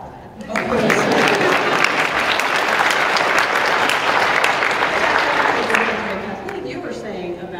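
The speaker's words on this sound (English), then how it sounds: "I'll clap for that" A convention panel audience at PAX East breaks into loud, sustained applause that swells quickly, stays dense for several seconds, then begins to thin out near the end.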